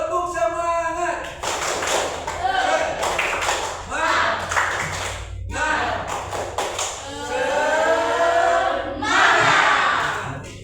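A classroom of students performs a rhythmic clapping cheer, with sharp claps punctuating loud chanted voices in several bursts, led by a teacher before a lesson.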